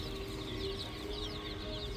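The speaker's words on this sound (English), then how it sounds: "Well, they're chickens." Chickens clucking in a barn at an abandoned airport, with a steady murmur of overlapping hen calls and chatter running throughout at moderate distance, with no voices.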